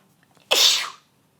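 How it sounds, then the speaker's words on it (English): One sharp, loud human sneeze bursts out close to the mic after a faint quiet breath and cuts off cleanly into silence. "I have to sneeze."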